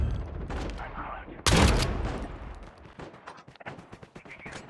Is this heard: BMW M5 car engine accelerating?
no